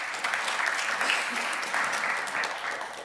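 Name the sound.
audience applause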